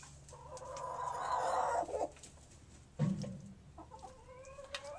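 Pet chickens cluck and squawk nearby, with a louder drawn-out call early, a sharp burst of clucking around the middle, and softer chatter toward the end.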